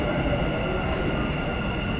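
Inside a Dubai Metro train riding from Dubai Marina toward the airport, a loud steady rumble of rolling wheels and cabin hum runs unbroken, with a faint high whine over it.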